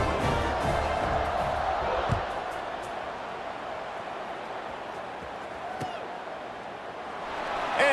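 Football stadium crowd cheering in a video game, a loud sustained roar with a couple of sharp thuds and a swell at the end, a broadcast voice speaking over it.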